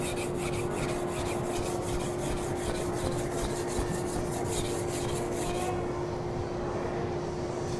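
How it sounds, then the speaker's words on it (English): A knife blade rubs on a 320 grit sharpening stone in steady rhythmic strokes, a close, even rasping scrape that stops near the end. A faint constant hum runs underneath, with no talk. "this is probably sharpened at a pretty low angle, so it shouldn't take me too much to get a burr"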